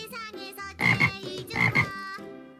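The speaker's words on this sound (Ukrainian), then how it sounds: "А як розмовляють жабенятка? Вони квакають." Frogs croak in two loud, close bursts of rattling calls, framed by quieter higher tones before and after.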